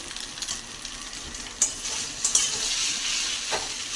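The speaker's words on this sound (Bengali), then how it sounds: "আমি এখানে সকালে খাবারের জন্য করে নিচ্ছি চাউমিন" Chow mein being stirred and fried in a pan for breakfast, a steady close sizzle with bright hiss and a few sharp scraping stir strokes, no talking.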